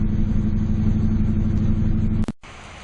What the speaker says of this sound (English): here we're running the fuel out of the carburetor.